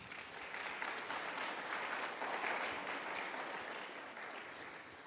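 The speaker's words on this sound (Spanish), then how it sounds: "Dale palmas al Rey." A church congregation claps together in a sustained, even wash of applause, moderately distant and without talk.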